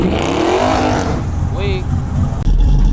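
A 600 hp Dodge Charger Scat Pack revs loudly nearby at a street car meet, its engine roaring and rising, while people shout and talk over it.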